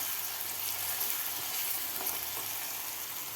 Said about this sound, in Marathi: आता व्यवस्थित आपल्याला हे सुद्धा परतून घ्यायचं आहे